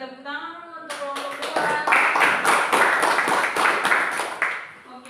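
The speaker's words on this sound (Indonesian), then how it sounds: "berikan tepuk tangan untuk kelompok" A classroom group claps for the second student group after its presentation, a steady burst of many hands from a small audience that swells, holds and then tapers off, following a brief voice at the start.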